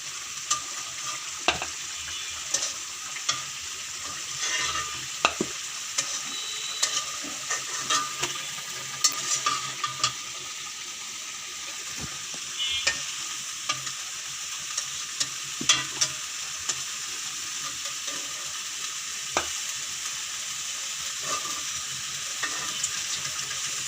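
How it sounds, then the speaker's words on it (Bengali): Fish being stirred and sautéed in a hot pan, a steady close sizzle with frequent clacks and scrapes of the spatula throughout, and no talking. "আমার মাছটা কষানো হয়ে গেছে"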